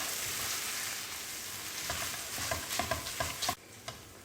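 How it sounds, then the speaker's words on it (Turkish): Minced meat frying with a spoonful of tomato paste for a zucchini spaghetti sauce: a steady sizzle, then a run of quick scraping stirs and clicks before the sizzle drops at the end. "Kıymaları biraz da bununla kavuruyoruz."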